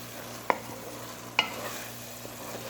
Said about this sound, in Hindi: थोड़ा सा चूल्हा तेज़ कर दें, आंच तेज़ करके, और अब इसको भून लें।